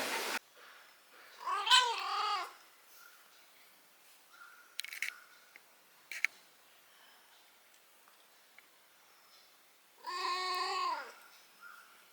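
A cat meows twice, a drawn-out wavering call near the start and another near the end, with a few faint clicks in the quiet between.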